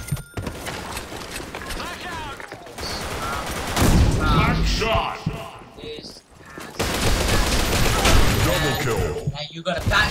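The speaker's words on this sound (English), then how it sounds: "stop shooting me from up there!" Bursts of automatic gunfire and single shots ring out in the online shooter Blackshot, loud and frequent across the stretch, with a shouting voice over parts of it.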